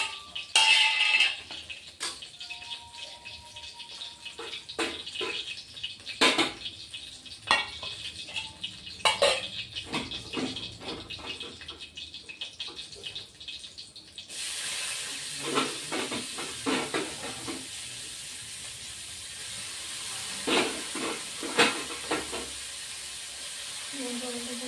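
Chopped onions go into hot oil for a fish curry with potato and raw banana. Utensils clink and scrape in the pan at first, then a broad, steady sizzle rises, with further stirring knocks heard close by.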